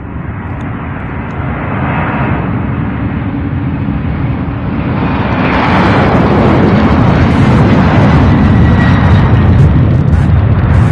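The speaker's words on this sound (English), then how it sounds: "This one here, the A300 getting a move on, heading for Burbank, California." A UPS Airbus A300 jet takes off at Louisville International Airport, its engine roar loud and broad, building steadily and growing heavier and closer toward the end.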